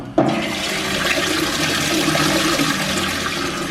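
Water gushes steadily and loudly from a pipe while filling up a supply at a rural home with livestock, a continuous rushing stream starting abruptly and running unbroken.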